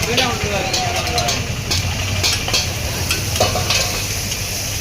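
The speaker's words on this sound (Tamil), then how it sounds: "தக்காளி பச்சை மிளகா இது எல்லாமே எடுத்து போட்டு அதுக்கு மேலே லைட்டாக எண்ணெயை ஊற்றியுமே நல்லாவே வதக்குறாங்க" Onions, tomatoes and green chillies sauté in oil on a flat griddle for kothu parotta, with loud sizzling and repeated metallic scraping and tapping of the spatula. Voices talk over the cooking.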